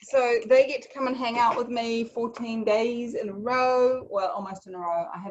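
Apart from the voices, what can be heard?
No everyday noise stands out behind the speech.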